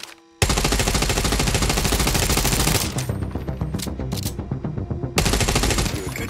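Rapid automatic gunfire at moving targets on a shooting range in The Division Resurgence mobile game, a loud, continuous rattling stream of shots with a brief pause midway.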